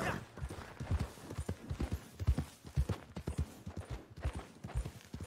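Horse hoofbeats in the video game Red Dead Online, an uneven run of clip-clop strikes at close range, each hit distinct, continuing steadily without any talk.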